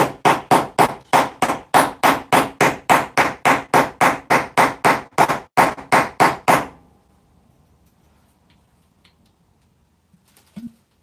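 Rapid, loud knocks ring out as a sugar container is tapped hard to loosen hardened sugar, about twenty evenly paced blows over seven seconds, then near silence with a faint clunk at the end.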